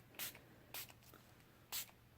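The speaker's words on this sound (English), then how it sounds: "This is that new Milani makeup setting spray." Three short hissing bursts of Milani makeup setting spray, each a quick bright spritz from a pump bottle, spaced roughly half a second to a second apart in a quiet room.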